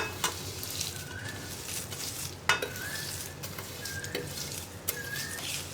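Crushed pappadam being stirred into a Kerala-style thoran in a pan with the flame switched off, a steady soft scraping and stirring with a low sizzle, with a few sharper clinks of the spoon against the pan.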